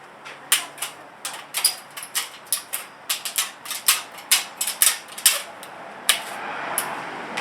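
Leaf gutter guard being cut to length, a run of about twenty sharp, crisp snips in quick irregular succession, close and fairly loud over a quiet background.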